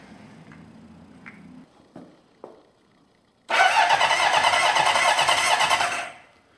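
A 1977 Honda CB750 barn-find motorcycle turns over with a few faint clicks and knocks, then its engine fires and roars loudly and steadily for about three seconds before cutting off, close by in a garage.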